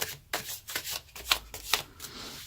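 A deck of tarot cards being shuffled several times in quick succession, crisp riffling bursts close by, with no talking.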